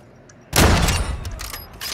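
Burst of sniper gunfire in Call of Duty: Modern Warfare II, a sudden loud crack at half a second followed by a rolling echoing tail and a few more sharp reports.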